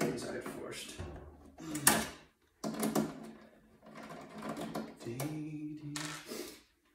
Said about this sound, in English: So let's get these two screws out at the back.